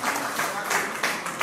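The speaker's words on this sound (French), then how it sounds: "Applaudissez très fort." Audience applause at a medicine donation event in Guinea, a short burst of clapping from a crowd that stays steady and moderately loud for about a second and a half.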